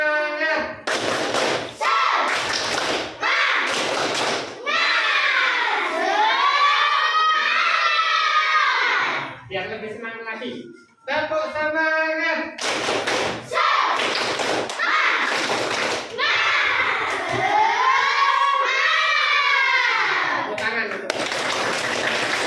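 A school class performs a spirit clap routine, with loud, rhythmic bursts of clapping alternating with children chanting together in unison, close and energetic, with a short pause partway through.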